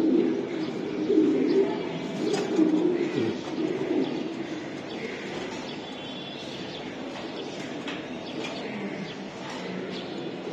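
Pigeons coo softly and repeatedly around a young diamond pigeon chick, a low, steady murmur of calls with occasional brief chirps over a constant background hum, fairly close and with no talking.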